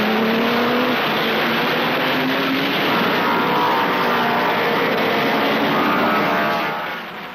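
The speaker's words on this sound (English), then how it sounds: "the German cars looked and sounded most impressive" German racing cars at the 1934 German Grand Prix, a loud continuous engine roar with rising revs as the cars pass, steady and dense with a fade at the very end.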